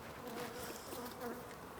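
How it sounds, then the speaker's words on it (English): A honey bee on a farm buzzes steadily and close, a continuous droning hum over outdoor background noise, with no talk. "So John, I've got a bee here that I think stung me through my t-shirt"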